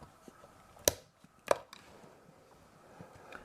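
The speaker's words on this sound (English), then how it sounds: "Next, use your X-Acto knife to cut the barrel at that location." An X-Acto knife cuts through a plastic cap gun barrel, giving two sharp, distinct snaps about half a second apart against a quiet background.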